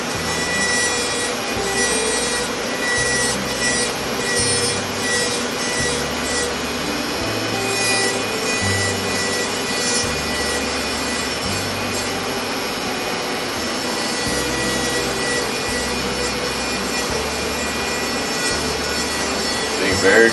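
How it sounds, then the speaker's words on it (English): A wooden black-capped chickadee carving is smoothed by hand with a tool, a steady close rubbing and abrasive scraping that runs continuously under a faint background hum, with no talk. "I just smooth it out so it's get rid of that hard edge that I just put in."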